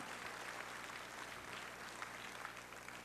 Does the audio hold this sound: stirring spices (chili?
no